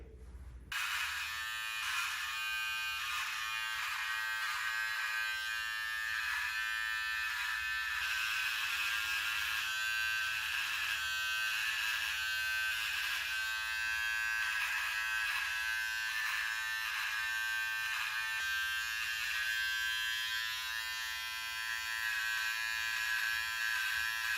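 A Wahl electric trimmer buzzes steadily and close up as it works around the edges of a goatee beard, a continuous motor drone lasting throughout with slight changes in pitch as it moves through the hair.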